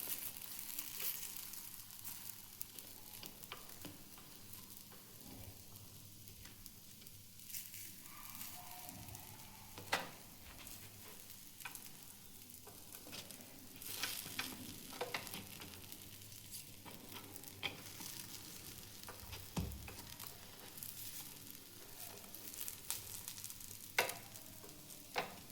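Appe made from rice and lentil batter fry in an appe pan as they brown on both sides, with a soft continuous sizzle and occasional faint pops and clinks, moderately quiet and close.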